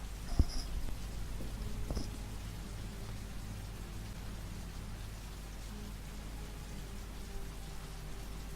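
Steady rain falls in a town in the video game Heavy Rain, a faint, even hiss that continues throughout, with a couple of soft taps near the start.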